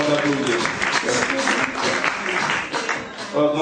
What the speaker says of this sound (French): je vais demander d'applaudir